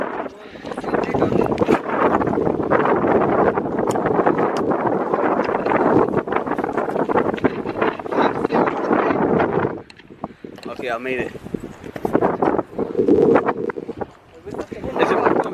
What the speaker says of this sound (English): Bro, it's very windy down here